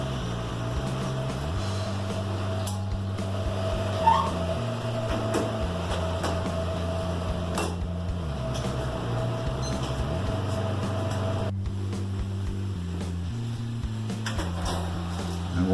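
Oven running while a little metal figure bakes inside, a steady low mechanical hum with stepped shifts in pitch and a few faint clicks, close and continuous.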